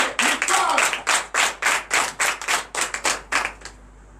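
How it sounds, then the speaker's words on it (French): A church congregation at morning prayer claps loudly in a steady rhythmic beat, a dense close burst of hands that fades out near the end. "Que je demande d'applaudir très fort."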